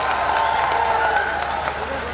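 Crowd at a political rally applauding in a dense, steady wash of clapping that continues without a break and fills the space.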